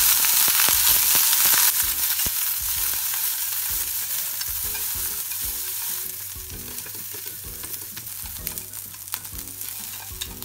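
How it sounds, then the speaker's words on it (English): Onion and carrots hit a heated frying pan and sizzle loudly at first, then settle into a steady hiss as a utensil knocks and stirs them in a quick repeated rhythm, close up and without speech. "I'm gonna put in the onion and carrots."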